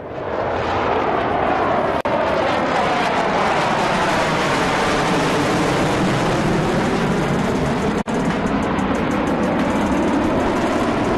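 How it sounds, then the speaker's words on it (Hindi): A Sukhoi fighter jet roars low over an expressway, its loud, broad engine noise sweeping steadily past and filling the scene for several seconds without letup. "सुखोई विमान के करतब आप देख रहे हैं"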